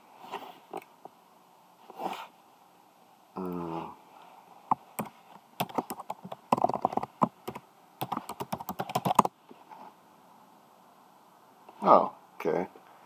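Password typed on a computer keyboard, with irregular bursts of clicking keystrokes, quick runs and pauses between, mixed with brief speech and breathing sounds nearby.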